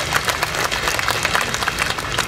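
Audience applause during a morning assembly of provincial civil servants with the NTT governor: dense, steady clapping from a crowd, moderately loud, sustained throughout without any voices.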